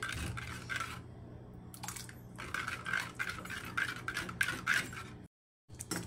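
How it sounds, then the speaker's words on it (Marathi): Fenugreek besan pithla stirred in a pan over a gas flame, with steady close scraping and light metallic rubbing of the spoon, a brief pause near the end, no talking. "मी थोडं घट्ट होईपर्यंत गॅसवर हलवत राहणार आहे, म्हणजे ते चांगलं एकजीव होते."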